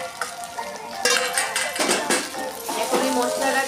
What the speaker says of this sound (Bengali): ভালো করে আবার মিক্স করো।